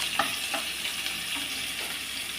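Onion and garlic frying in sunflower oil: a steady, close sizzling hiss throughout, broken by a few soft clicks and stirring taps.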